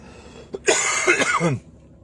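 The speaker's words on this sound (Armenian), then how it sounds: "կներես, հազացի հուզմունքից էր" A man gives a brief burst of throat-clearing coughs, close and loud, lasting about a second before quieting.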